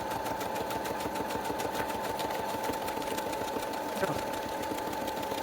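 A sewing machine runs a straight stitch, giving a steady, close mechanical whirr with a rapid rhythmic clatter that holds at an even speed throughout.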